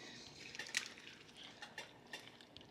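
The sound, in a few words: stirring chickpea masala curry in a pot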